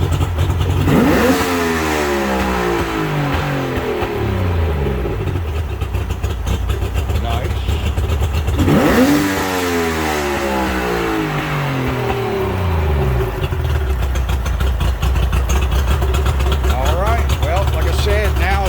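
A Mercury 60hp outboard motor on a Bass Tracker boat, freshly rebuilt after a stalling fault, idles steadily and rises in two sharp revs that sweep up and settle back, heard close and loud throughout.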